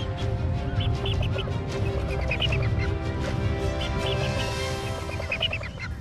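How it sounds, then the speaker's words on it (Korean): A flock of cinereous vultures feeding close by in the wild, harsh honking and croaking calls overlapping continuously over a steady rumble, loud and busy, with no voices. "7m 앞까지 온 독수리 군단."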